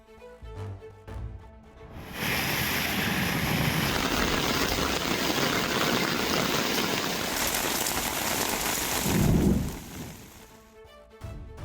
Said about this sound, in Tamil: சென்னை மற்றும் புறநகர் பகுதிகளில் திடீரென கனமழை பெய்தது.